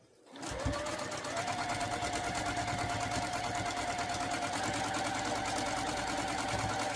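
A sewing machine stitches a quilted pot holder, running in one continuous, steady, close whir with a fast regular needle rhythm after a brief start, and no voices.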